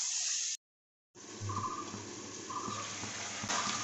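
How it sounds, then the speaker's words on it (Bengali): Water is poured into a cooking pan of spiced fish and taro, a faint, steady gushing trickle that starts after a short silence and runs on quietly with no one talking. "অল্প একটু জল দিয়ে দেবো।"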